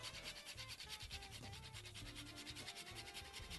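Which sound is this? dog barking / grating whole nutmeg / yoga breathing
grating whole nutmeg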